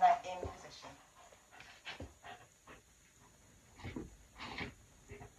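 A dog pants and softly whimpers in short bursts during chin rest training, close and fairly quiet, with a trainer speaking over it.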